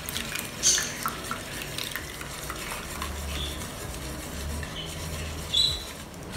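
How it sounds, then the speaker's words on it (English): Unsweetened soy milk being poured into a bowl and stirred while making homemade egg tofu, a continuous liquid swishing and stirring texture with a couple of brief clinks. "Stirring while you pour the soya milk in."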